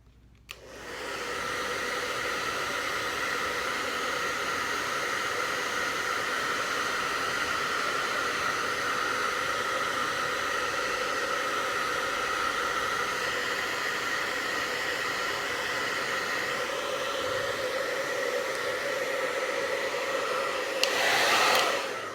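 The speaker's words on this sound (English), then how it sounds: "then heat it up with a hairdryer again" A hair dryer blows steadily for about twenty seconds to heat a clear Jamberry nail wrap, giving a loud, even whoosh with a constant motor whine. It shuts off sharply near the end.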